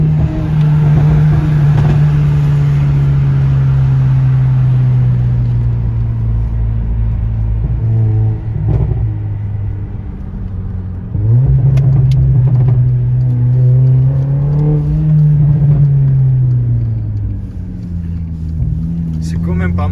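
A Mercedes CLA45 AMG four-cylinder engine drones loudly and steadily while driving, its pitch rising and falling through several revs, with people talking over it.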